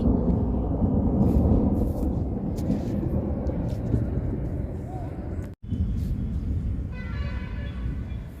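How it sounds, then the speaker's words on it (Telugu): A long, deep rumble of thunder rolls on without a break over a garden before rain, fairly loud, with faint chirps rising near the end. "ఉరుములు ఉరుగుతున్నాయండి బాగా"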